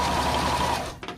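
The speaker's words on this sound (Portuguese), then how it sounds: "Podemos usar a máquina com o ponto reto tradicional ou zigue-zague" A domestic sewing machine runs a zigzag stitch in one brief, fast, steady mechanical whir, heard up close, then slows and stops after about a second.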